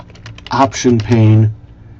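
Quick keystrokes clatter on a computer keyboard as Java code is typed in Eclipse, with a few clicks at the start and someone talking over the rest.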